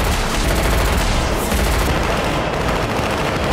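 Rapid gunfire in an action film, a dense, sustained burst of shots that fills the whole stretch at close, loud level with no pauses or talk.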